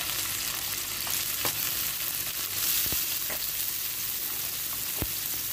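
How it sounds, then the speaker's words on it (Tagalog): Garlic sautés in a pan of hot oil, a dense, even sizzle running throughout with a few soft clicks from stirring, close and without voices. "Ituin muna natin ang bawang, ha"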